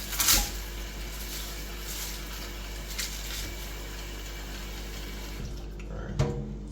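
Tap water runs steadily into a pot of soaked peas for Jamaican-style rice and peas, a continuous close splashing stream with a few clinks near the start and end, no talk.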